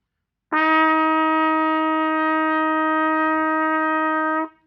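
A single sustained trumpet F, played with the first valve down, held steadily for about four seconds, clear and bright, then released.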